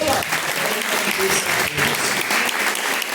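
Applause from a congregation during a lively Pentecostal church service, a dense burst of clapping lasting a few seconds with some voices mixed in.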